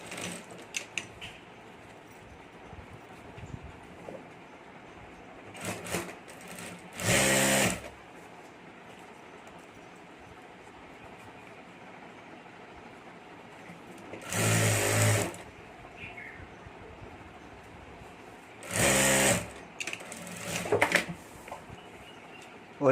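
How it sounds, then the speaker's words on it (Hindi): A sewing machine stitching a zip to the lining of a handbag runs in three short loud whirring bursts, separated by longer quiet gaps with faint handling sounds and some soft speech. "इस तरह से सिलाई करके ये जिप और अस्तर ये जोड़ देना है हमें।"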